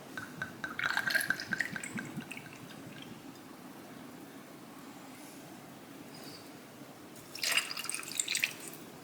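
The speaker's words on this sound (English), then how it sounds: "the first to go in will be 60ml, 2 ounces of Havana Club." Havana Club rum, about 60 ml, is poured over ice in a glass. Two short, quiet bouts of trickling and splashing liquid are separated by a stretch of low background hush.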